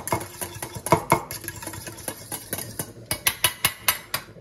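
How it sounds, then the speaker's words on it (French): Utensil scraping and clinking in a bowl while mixing a grilled octopus salad with cayenne and a five-pepper blend, a quick irregular series of sharp taps and scrapes, close and fairly crisp. "On mélange bien."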